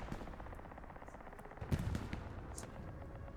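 Distant gunfire crossfire in the World War II shooter Hell Let Loose on the Stalingrad map, a faint steady rattle of machine-gun and rifle shots with a few louder bursts mid-way, with no talk.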